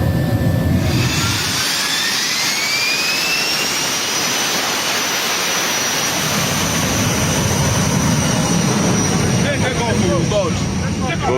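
A jet-powered aircraft's engine roars loud and close before take-off, with the whine rising in pitch and the roar building into a sustained blast. Voices are heard under the noise.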